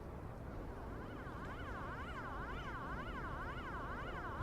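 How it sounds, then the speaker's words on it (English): A European-style ambulance siren in the city-building game Cities Skylines 2 wails in a rising and falling pattern, somewhat distant and faint, over a dense rumble of traffic. "is that Euro ambulance?"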